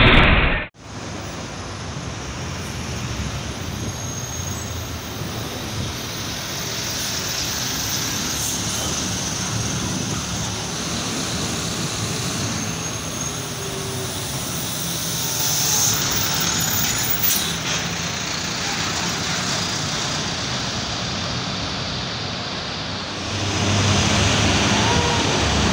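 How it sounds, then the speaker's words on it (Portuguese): Buses arriving and idling at a large public bus station terminal, with a steady loud rumble of engines and hiss of air brakes over a busy broadband roar, swelling louder near the end. "E a chegada dos ônibus."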